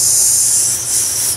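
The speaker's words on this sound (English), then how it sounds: "So I like to spray this in my roots" A steady, loud hiss of an aerosol dry shampoo can sprayed into hair roots, one continuous burst with a slight dip near the end, close up and alone.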